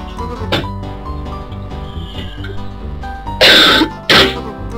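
Two loud, harsh coughs close to the microphone come near the end, one right after the other, over continuous game music with a fainter throat-clearing sound earlier.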